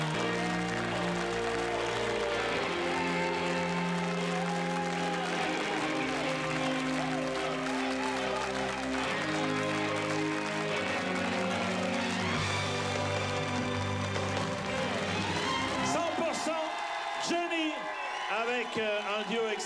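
An audience at a televised French variety show applauding the singers, steady clapping that carries under loud music throughout and then continues as the music drops away near the end.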